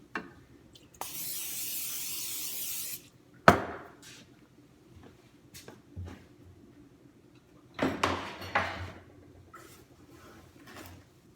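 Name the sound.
spraying baguette dough before proofing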